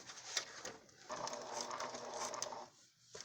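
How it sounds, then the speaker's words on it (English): A sewing machine runs a steady stitching burst while sewing a nose enclosure into a blue fabric face mask, moderately loud and close, stopping briefly near the end before a short restart. "And then watch how I sew this."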